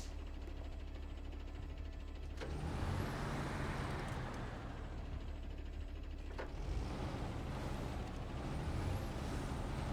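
A truck in the video game SnowRunner releases two sharp air brake hisses over a steady engine rumble, the bursts spaced a few seconds apart.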